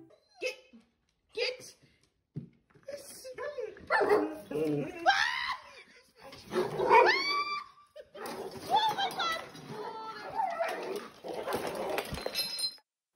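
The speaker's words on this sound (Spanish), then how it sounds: "el perro de la Covelli decidió ayudar metiéndose en una pelea con el mapache" A dog barks and yelps in an agitated scuffle with a raccoon, sharp bursts and whimpers coming close together near the mic, mixed with frantic shouting and screaming from people nearby.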